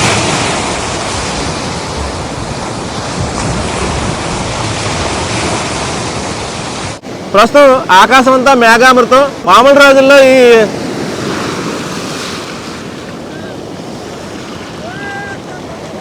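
Rough sea waves pounding the shore at Antarvedi during Cyclone Fengal, a loud continuous roar mixed with strong wind for several seconds, then someone speaks over the fainter surf.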